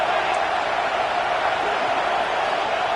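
A football stadium crowd at a Utah at Michigan game roars steadily for the defense on a big third down, a dense, continuous wall of cheering with no break.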